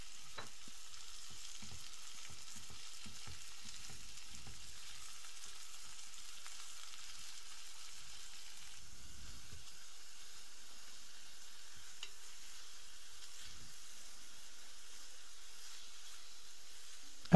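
About 400 g of minced lamb frying in a pan, a faint steady hiss of sizzling with scattered scraping and stirring clatters, heaviest early and near the middle.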